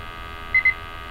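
Gas detector alarm giving two quick, close high-pitched beeps in succession over a low steady background hum, with no talking.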